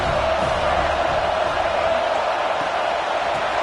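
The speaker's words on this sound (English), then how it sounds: "This crowd bringing the energy and noise early." A football stadium crowd roars in a steady, dense wash of cheering and shouting that holds loud and unbroken throughout.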